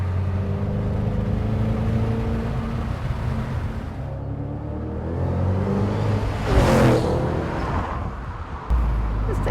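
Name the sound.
2013 Ford Mustang Shelby GT500 cruising at low RPM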